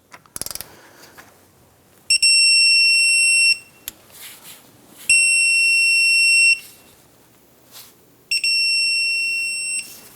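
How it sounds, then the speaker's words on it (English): A torque wrench tightens wheel hub mounting bolts to 75 foot-pounds on a 1997-2006 Jeep Wrangler, giving three long, steady electronic beeps with short pauses and faint clicks between them, with no talking. "Now I want to go ahead and torque these bolts down to 75 foot-pounds."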